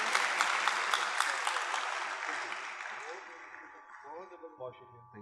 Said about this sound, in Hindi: ये तालियां नहीं रुकनी चाहिए भाई,